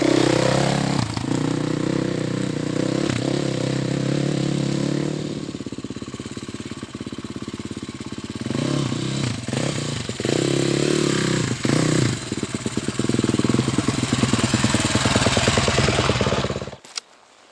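Dirt bike engine on an enduro ride, idling roughly then revving in bursts as it climbs over a road obstacle, loud and close with throttle blips and clatter before cutting off at the end.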